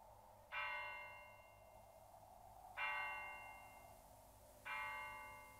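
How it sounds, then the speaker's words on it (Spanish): Distant church bells toll three times, each stroke ringing out and slowly decaying before the next, faint against a quiet background with no voices. "Sí, oigo campanas, pero no sé dónde."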